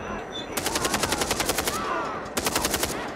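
Rapid automatic gunfire in Far Cry 3, two bursts, a long rattling string followed by a shorter one after a brief pause, loud and close.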